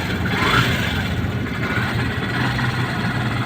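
A Yamaha YTX 125 motorcycle engine running and revving up close, a continuous rough, loud drone with no voices over it.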